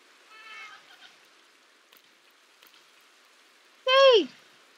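A cat meows once in a game, loud and close, with a bright falling cry. A fainter mewing sound comes earlier.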